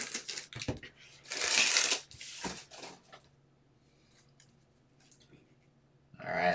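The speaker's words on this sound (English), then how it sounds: "let's try to rip this entire thing open." A pack of football trading cards being torn open by hand, a loud burst of crinkling and ripping foil wrapper for about three seconds, then faint shuffling and handling of cards, with another rustle at the end.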